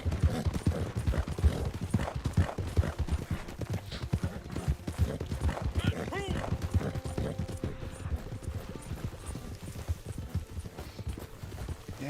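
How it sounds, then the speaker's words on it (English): Hooves of a black horse clip-clop steadily as it is ridden in a race over rough ground, a quick, rhythmic, close patter throughout with little else around. "riding a black horse"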